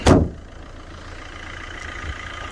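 Vauxhall Corsa diesel engine catching at once with a loud burst, then settling into a low, steady idle close by.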